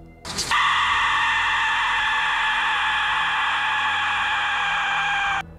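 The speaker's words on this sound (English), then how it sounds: "The whistle has nothing to do with music and is pretty terrifying." An Aztec death whistle gives a sudden piercing, shrill scream-like blast that holds steady and loud for about five seconds before cutting off abruptly.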